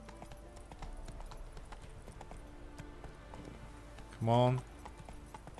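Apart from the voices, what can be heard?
horse Roach's hooves while riding in Witcher 3 video game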